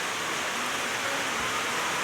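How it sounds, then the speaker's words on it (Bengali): Rain falls steadily, a dense, even hiss that holds at the same level throughout without any voices. "বৃষ্টি হইতেছে তো"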